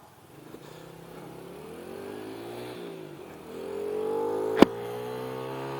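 1992 Honda Monkey Baja Africa mini motorcycle riding along, engine note rising through the gears with a steady mid-pitched drone, building louder toward the end with a sharp click near the close.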